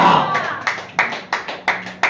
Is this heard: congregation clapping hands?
yes